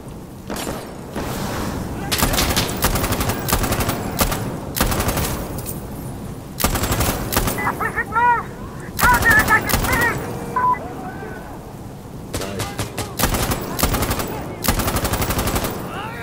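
Video game combat in Insurgency Sandstorm, with repeated loud bursts of automatic rifle fire and heavy booms, close and intense, separated by short gaps while players talk in between.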